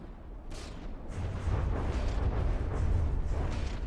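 Missiles launching and detonating in the naval combat game From the Depths, a dense, continuous roar of booming blasts and rumbling explosions layered over one another, loud and steady with no clear gaps.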